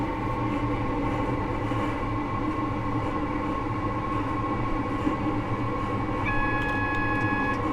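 A Class 158 diesel multiple unit coasting with power idled on a Bristol to Exmouth route in Train Simulator gives a steady, loud rumble and drone throughout, with a faint high tone appearing near the end.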